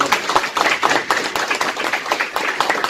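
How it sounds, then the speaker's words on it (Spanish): An audience applauds doctor José Lafuente, a lively, continuous round of clapping from many hands with sharp individual claps standing out, fairly close and loud throughout. "un aplauso para el doctor José Lafuente"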